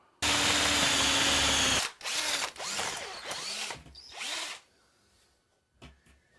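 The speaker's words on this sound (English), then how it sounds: "you can put a drill hole in the ceiling, go up in the attic, and drill a hole through the roof" A power drill bores up through a ceiling toward the attic, opening with a loud sustained whine of nearly two seconds, then several shorter revving bursts that fade, followed by faint quiet handling at the end.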